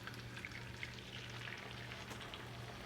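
Matzo pieces fry in hot oil in a pan with a steady, close crackling sizzle and scattered small pops throughout, alone and fairly quiet.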